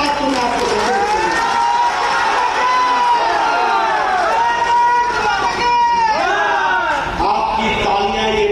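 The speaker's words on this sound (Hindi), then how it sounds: "आपकी तालियां ये बता रही हैं" Large crowd at a political rally cheering, shouting and applauding loudly and continuously, with dense overlapping voices and whistles throughout.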